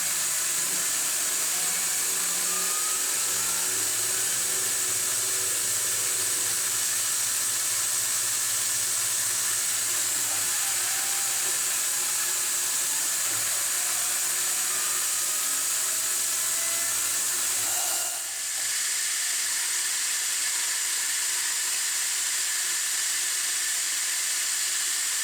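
CNC milling machine facing a part to final height, a steady high-pitched spindle whine and hiss of cutting running continuously and fairly loud, with a brief shift partway through and no talk.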